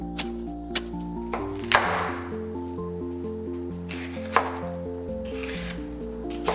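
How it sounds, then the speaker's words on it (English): Knife chopping fennel fronds on a cutting board in a home kitchen, making a quick series of sharp, close taps and knocks over a steady background tone. "we're gonna chop up about a tablespoon of that and set it aside"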